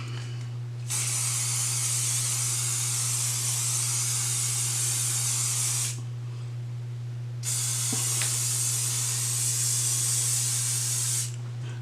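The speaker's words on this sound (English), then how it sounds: "I'm going to spray these curls with a little Sebastian Shaper hairspray." Sebastian Shaper hairspray hisses out of the can onto deep-wave curls in two long, steady bursts of several seconds each, close and even, separated by a short pause with a faint tap and a constant low hum underneath.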